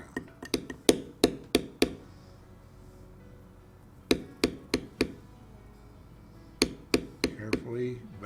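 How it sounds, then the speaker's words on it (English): A beveling tool struck with a mallet while carving a largemouth bass design into leather, sharp close taps in quick bursts of several strikes separated by short pauses. "Carefully beveling the lines on that top fin."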